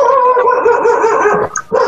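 A large dog bays and howls loudly, with drawn-out, tonal yowls and a short break before resuming.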